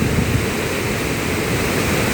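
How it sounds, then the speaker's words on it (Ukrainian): Probiy waterfall in Yaremche pours over mountain boulders, a loud, dense, unbroken rush of water filling the whole soundscape with no voices. "Я сьогодні в Яремчі на водоспаді Пробій."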